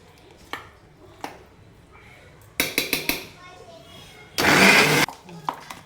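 An electric blender grinds chutney in bursts, short pulses followed by a steady, loud whir, with chopping clatter and a voice nearby.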